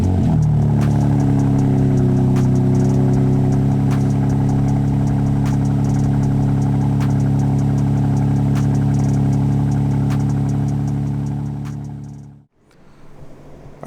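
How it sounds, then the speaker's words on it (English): A BMW G82 M4 Competition cold-starts with a sharp flare, then settles into a loud, steady, deep idle heard up close, cutting off abruptly near the end. "But first, a cold start."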